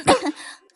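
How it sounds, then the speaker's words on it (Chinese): A single short, close cough or throat clear, loud and abrupt, fading within a second. "在场众人接连响起了一片诡异的咳嗽声"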